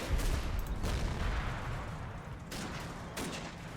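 Small arms fire crackles in the WWII tactics game Combat Mission, aimed at a British 6-pounder anti-tank gun: a dense, continuous rattle of moderately distant shots with a few sharper bursts standing out, no voices.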